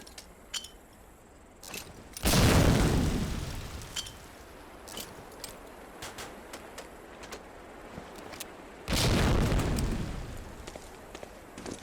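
Two grenades explode on concrete targets at a training camp in the Medal of Honor: Allied Assault video game, each a loud sudden boom with a long fading rumble, separated by several seconds of quiet ambience.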